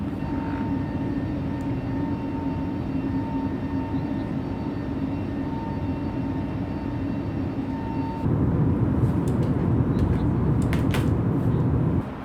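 Steady airliner engine drone in Microsoft Flight Simulator 2020 during a climb toward 5,000 feet, a constant broadband roar with a faint tonal hum that swells louder partway through, with light clicks near the end.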